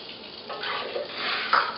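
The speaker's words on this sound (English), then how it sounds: "We add to that almost 2 cups of water." Warm water pours into a bowl of dry ingredients for braided challah dough, a steady splashing stream lasting about a second and a half, close and moderately loud with no talk.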